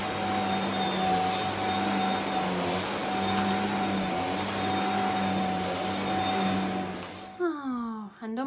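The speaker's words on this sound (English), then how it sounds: "We've only got my conservatory to hoover and upstairs" A vacuum cleaner hoovers a home conservatory, holding a steady, loud droning whine for several seconds before a voice briefly speaks at the end.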